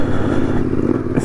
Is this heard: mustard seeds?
no